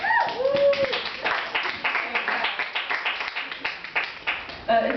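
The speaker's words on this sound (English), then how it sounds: "Is that a clapping like it's over?" An audience claps at a talk, a short sparse patter of hands that rises and fades, with a person talking at the start and end.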